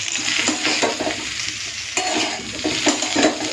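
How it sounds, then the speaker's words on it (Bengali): Potato and cauliflower pieces fry in a pan, loud and close, with a continuous sizzle broken by rhythmic scraping stirs of a spoon against the metal. "আলু ফুলকপিটাকে লাল করে ভেজে নিয়েছি"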